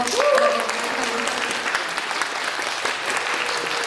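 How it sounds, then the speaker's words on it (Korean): Audience applause after a guest Q&A at a Korean film screening, a steady dense wash of many hands clapping throughout, with a brief voice audible near the start. "이 두 분께도 뜨거운 박수로."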